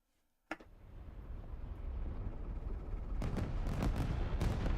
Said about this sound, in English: there's a bit of gunfire going on because that guy just died.